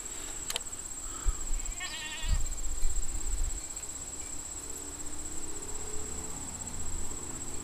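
Sheep on a farm bleating once, briefly and at middle distance, against a steady high insect-like drone and low rumbling handling noise, with a sharp click near the start.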